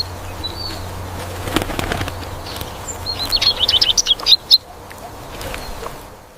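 Small birds, a sparrow among them, chirp in a quick burst of sharp, bright tweets after a couple of louder thumps or flaps earlier on.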